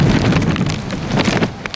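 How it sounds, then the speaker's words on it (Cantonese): Heavy typhoon rain pours steadily during a No. 3 strong wind signal in Hong Kong, a loud, dense wash of drops with gusty wind roaring underneath, continuous and close with no voices. "彩虹嘅外圍雨帶為本港帶嚟狂風大雨"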